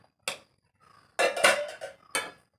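Ration rice being stirred in a cooking pot over a low flame: a short scrape of utensil against the metal pot, then a longer burst of clinking and scraping, and one more quick scrape, close and alone without talk.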